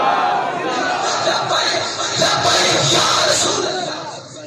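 A crowd at a religious gathering chants slogans in unison, a loud sustained mass of voices rising and falling for several seconds.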